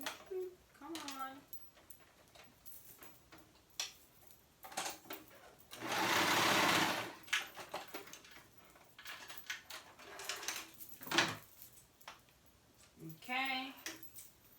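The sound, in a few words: cover stitch machine top stitching a wrapped skirt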